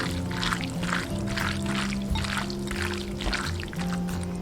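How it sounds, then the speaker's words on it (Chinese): Soft wet squishing and pouring sounds repeat rhythmically as soy sauce is added to raw beef and mixed by hand, close and steady over a constant low background hum. "加入2勺酱油，给它码一下底味，抓拌均匀。"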